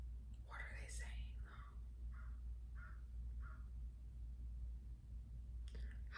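Crows give a short series of caws in the near distance, about five evenly spaced calls over steady low background rumble, with no talking.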